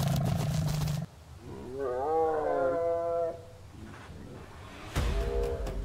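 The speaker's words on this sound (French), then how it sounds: "Mais le lion se releva en rugissant," A lion roars in the wild Zambian bush, a long rising and falling call with a heavy rasping tone lasting about two seconds mid-clip, set between other loud animal sounds.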